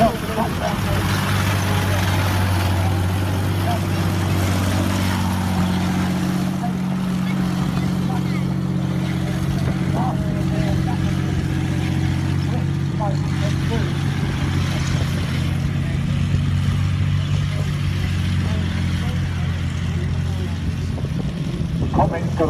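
A Comet tank's big Meteor engine, running with no silencer, rumbles steadily and loudly throughout, a deep continuous drone with faint clanks on top.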